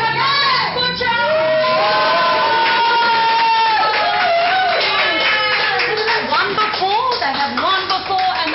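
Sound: crowd cheering and clapping at award presentation

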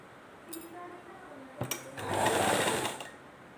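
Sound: sewing machine stitching a blouse hook strip

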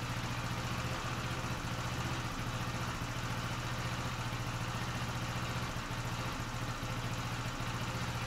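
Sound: Honda scooter engine idling with misfire

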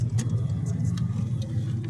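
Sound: Skoda Octavia 1.8 TSI driving on LPG gas equipment

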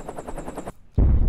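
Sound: explosions background noise

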